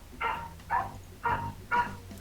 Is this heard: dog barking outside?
yes